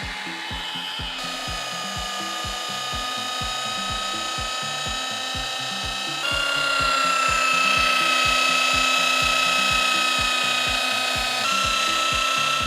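An electric polisher works V38 polish into a foggy car headlight, a close steady mechanical whir with a rapid repeating rattle, stepping up to a louder, higher speed partway through.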